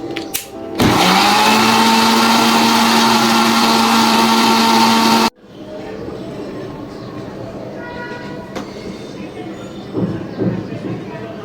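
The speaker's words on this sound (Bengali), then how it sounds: "এখন আমি ব্লেন্ডার করে নিব ব্লেন্ডারে নিয়ে নিলাম ব্লেন্ডার জারে" An electric blender runs loud and steady for about four seconds, blending sugar and liquid milk in its jar for a bread caramel pudding, then cuts off abruptly, leaving quieter room sound.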